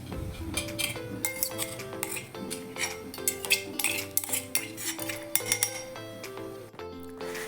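A spoon scrapes and clinks against a metal vessel and plate while a crushed spice mixture for stuffed brinjal is transferred, giving a busy series of bright metallic taps and rings.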